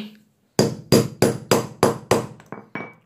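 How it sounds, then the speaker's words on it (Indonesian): A flat screwdriver smashing apart an old bearing from a Byson clutch, heard as eight sharp, loud metallic blows struck at a steady rhythm, the last two slightly lighter. "kita bisa hancurkan dengan menggunakan obeng min nanti di sini kita hancurkan hancurkan seperti ini"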